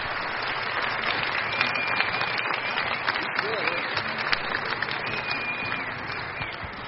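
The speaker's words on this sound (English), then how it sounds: "Listen to the crowd. They love the effort." Sustained applause from a crowd at a racquetball finals match, dense continuous clapping that holds steady throughout, with a voice talking over it.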